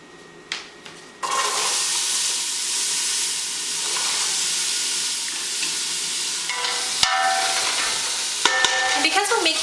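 Vegetables hit hot extra virgin olive oil for a soup with a sudden loud sizzle that settles into a steady frying hiss, broken by stirring scrapes and clatter near the end.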